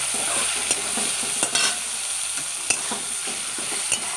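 Shrimp fry in hot refined oil in a wok, a loud close sizzle with intermittent stirring scrapes and taps over a few seconds.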